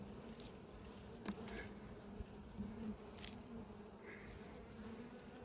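Honey bees buzzing around an open apiary hive during a spring inspection for brood and the queen, a steady dense drone with a few individual bees flying close past, and no talk over it.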